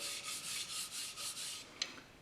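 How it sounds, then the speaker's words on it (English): Sandpaper rasps steadily against a spinning ash wood bowl on a lathe, in rhythmic rubbing strokes with brief pauses, ending with a short scrape; no talking. "you switch to 120 grit and you spin the lathe and you sand it"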